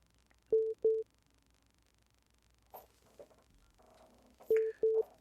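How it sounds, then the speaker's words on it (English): Two pairs of short electronic phone beeps signal an incoming call, one pair early and another near the end, with quiet talk in between. "Getting a phone call. I don't know if you heard the beep."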